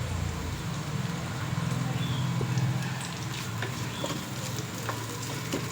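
Onion and garlic fry in hot oil for obbattu sambar, giving a steady, soft sizzle throughout with occasional faint stirring clicks.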